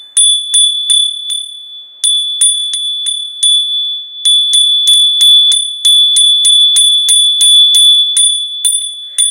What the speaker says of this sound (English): So, the bells have to be rung